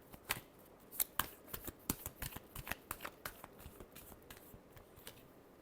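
Tarot cards being shuffled by hand in a last shuffle before a reading, a run of crisp riffling flutters and snaps at close range, irregular bursts with no talking.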